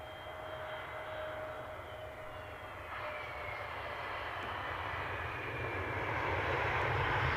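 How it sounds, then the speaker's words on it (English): An ATR turboprop airliner drones at Edinburgh Airport, a faint, steady engine hum with a high propeller whine that slowly grows louder as it approaches. "I can hear another ATR."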